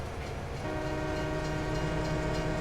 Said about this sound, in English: Heading for Elm Creek with our lorry on the back of the train.